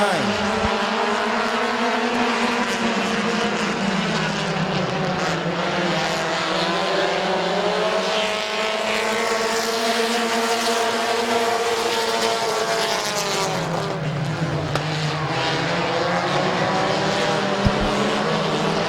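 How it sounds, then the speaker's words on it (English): Race cars roar around an oval at a speedway, several engines droning and rising in pitch as they run three wide, a continuous loud pack of motors with a track announcer talking over it throughout. "Here comes Justin Courtney, 3 wide up the middle to take over the second spot to shuffle Schreffler back."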